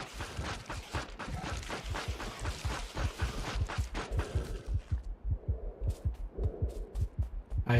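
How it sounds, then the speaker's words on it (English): Steady, loud in-game heartbeat from Factorio Space Age, regular double-thump pulses repeating throughout, with a busier layer of game sounds in the first half that drops away, leaving the heartbeat more exposed. "I hear my heartbeat."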